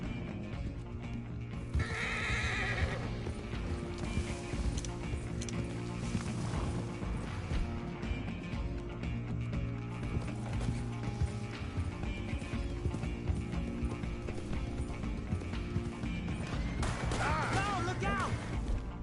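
Horses in an outlaw-themed video game clip-clop and whinny over a dense, loud game mix with music and bursts of action, the neighing standing out near the start and again near the end, with voices talking throughout.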